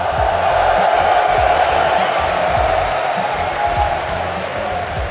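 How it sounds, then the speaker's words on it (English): A large live crowd at a Rocket League esports major in London roars and cheers continuously, a dense loud wash of voices with a faint announcer voice underneath. "You can hear from the roar of the crowd that you are the team here, the crowd favorite."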